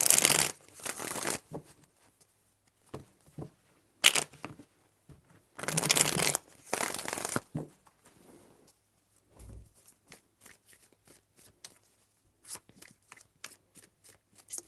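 Tarot cards are shuffled close by in several bursts of rapid riffling and slapping, with quieter taps and card handling in the pauses between them.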